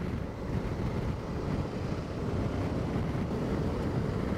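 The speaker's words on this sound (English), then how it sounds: "Get up on the hilltops here, it's windy out here." Strong wind buffeting across exposed hilltop farmland with no trees, a constant loud roar and rumble from start to finish with no other sounds.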